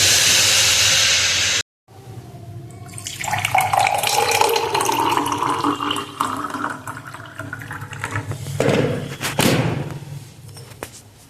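Hot water running from a tap in a home during cold weather, a steady rushing splash that starts after a brief silence and continues close and fairly loud for several seconds, with no talk.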